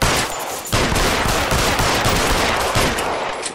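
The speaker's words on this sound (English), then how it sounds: "How many times do you have to shoot him?" Gunfire in the video game LA Noire: rapid, loud, continuous volleys of shots with dense rattling bursts throughout, no pauses.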